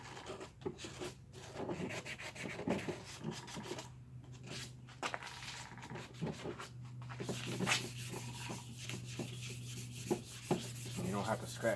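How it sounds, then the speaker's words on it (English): Plastic motorcycle parts being scuffed by hand ahead of candy paint, a busy stream of rough rubbing and scratching strokes, close and continuous with irregular rhythm and no talking. "You don't have to scratch too hard. You're just basically scuffing it up."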